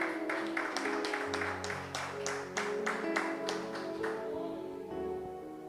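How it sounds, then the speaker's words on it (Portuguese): Congregation applauding during a church service, a steady run of rhythmic claps over a low sustained musical background, fairly close and lasting several seconds before tapering off. "uma salva de palmas"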